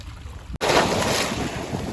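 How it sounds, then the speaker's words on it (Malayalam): Sea waves stirred up by a passing fishing boat wash steadily onto the shore, a continuous rushing surge with a brief cut near the start and wind buffeting the microphone. "അപ്പുറത്തൂടെ മീൻ പിടിക്കുന്ന ബോട്ടിൽ അതിൻ്റെ ഓളം കടലിൽ ചന്ന വില്ല വന്നു"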